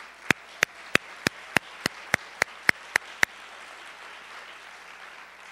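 At a women's economy launch event, a slow, even series of about eleven sharp claps rings out close by over roughly three seconds, then gives way to quiet room tone.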